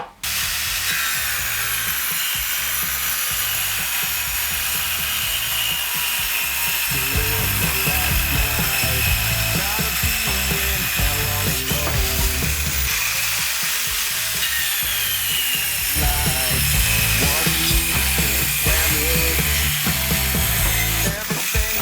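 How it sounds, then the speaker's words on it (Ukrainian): A Vitals 1271TG mini saw rips lengthwise through a 30 mm wooden board, giving a loud, continuous high whine that grinds and bogs under load throughout, with no talking. "Доска 30 мм повздовжний різ."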